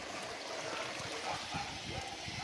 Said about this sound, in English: meter of Matala air hose diffusing inside each fish tank